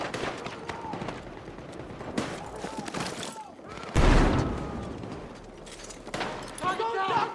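Bursts of automatic gunfire in a first-person shooter game, rapid cracks and a heavy boom mid-way, mixed with shouting voices and chaotic battle noise throughout.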